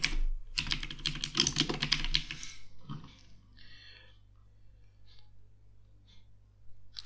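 A short burst of fast keystrokes on a computer keyboard as a file name is entered, close and clear, then a few isolated key taps trailing off into quiet.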